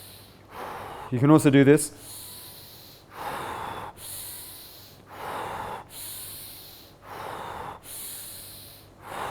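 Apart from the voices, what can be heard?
rhythmic pranayama breathing in and out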